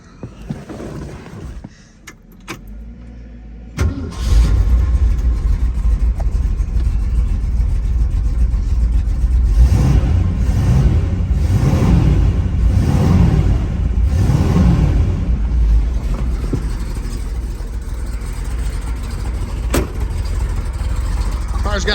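A restored 1969 Ford Mustang Mach 1 with a 428 Cobra Jet V8, four-speed and factory exhaust cranks over and fires up after a few quiet clicks. It settles into a deep, loud idle, with several throaty revs rising and falling midway.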